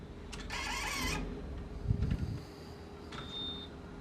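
An inkjet printer powering on, a short, quiet sequence of whirring motor runs and mechanical clunks, ending with a brief high tone.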